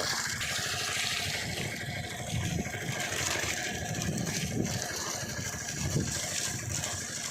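Water pours into the soil at the base of a coconut seedling, giving a continuous gushing, gurgling wash that stays steady and close with no talk over it.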